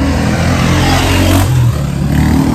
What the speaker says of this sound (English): Sorry about the noise from the cars.